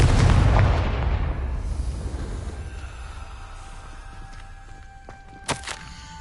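A Confringo spell blast in the Hogwarts Legacy game bursts as a loud, deep booming explosion that rumbles and slowly fades, followed by a few small crackles.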